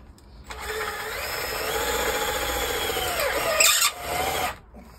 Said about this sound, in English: we're actually going to finish putting some of the screws in so it's nice and tight on there